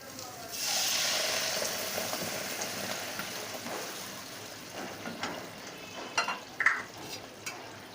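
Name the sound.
hilsa fish curry with potato and eggplant boiling in pan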